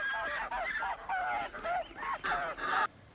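Frightened farmyard geese honk loudly and repeatedly in a rapid, agitated series of about seven calls, close by, with no talking.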